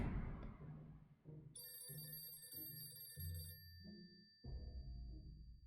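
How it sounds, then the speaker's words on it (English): A telephone rings with a steady electronic tone for a couple of seconds over low rhythmic background music in the video game 60 Seconds!, fairly faint overall. "Should I answer the phone?"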